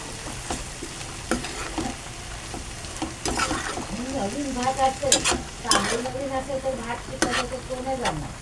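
Leftover rice fries in a pan while a spoon scrapes and stirs it in irregular strokes over a continuous sizzle, with someone speaking in between.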